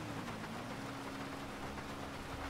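Steady, dense rain hisses without a break in a GTA roleplay game, an even wash of fairly faint noise with a low tonal hum underneath and no talk.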